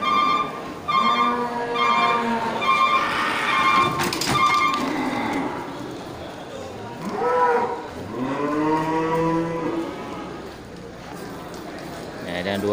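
Aceh cattle low repeatedly in a livestock pen, giving long, harmonic moos that swell and fade over about ten seconds, with people talking in the background.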